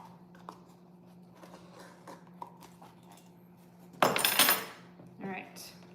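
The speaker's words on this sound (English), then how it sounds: "Mix that up." Dry ingredients for chocolate chip cookies, with baking soda among them, get stirred in a bowl: soft scraping and light utensil clinks, then a louder burst of scraping and clatter near the end.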